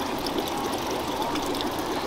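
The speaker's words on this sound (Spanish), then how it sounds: "Y el agua está fluyendo constantemente" Water runs steadily through the pools and small channels of a large fish farm, a continuous close, broadband rushing and trickling with no breaks and no voices.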